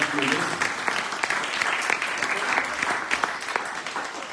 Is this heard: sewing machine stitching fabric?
no